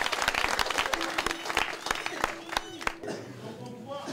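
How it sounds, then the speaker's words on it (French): An audience of inmates at a donation ceremony in a prison claps, sharp individual claps rising into sustained applause for about three seconds, then fading into quieter room noise and voices. "applaudissez pour vous-même"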